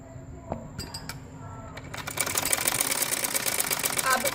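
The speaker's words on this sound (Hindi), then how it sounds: "अब मैं शोल्डर का दूसरी साइड सिलाई करने लगी हूँ।" A sewing machine stitches the shoulder seam of a ladies' ban-collar V-neck garment. It starts after a few clicks and small knocks and then whirs in a rapid, steady, close stitching rhythm that carries on to the end.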